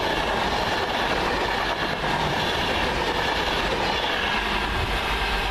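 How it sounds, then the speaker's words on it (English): A freight train passes close by near Birmingham, a loud, dense rumble of wheels on rails with faint clickety-clack, filling the whole stretch without any voices. "I've got a freight train coming in, I think"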